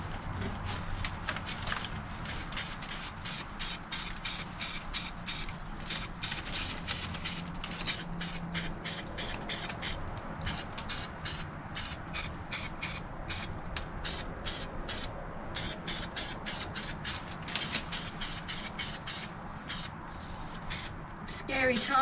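Spray paint misted under the bonnet of an Austin Allegro, repeated short hissing bursts from an aerosol can in a fast, uneven rhythm, close and steady across the whole stretch, with a voice talking over parts of it.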